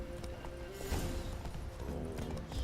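Roach, a horse in The Witcher 3, gallops with a quick, rhythmic clip-clop of hooves, close and steady against faint background ambience.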